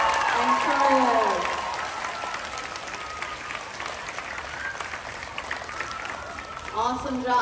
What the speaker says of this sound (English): Another round of applause for our amazing cast and crew.